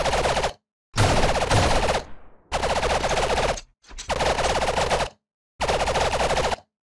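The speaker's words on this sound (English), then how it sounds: "let's see if we can hear the turret's lasers" Turret lasers firing in a Unity video game: loud rapid bursts of automatic fire, five separate volleys each lasting about a second, with brief silent gaps between, alone and close.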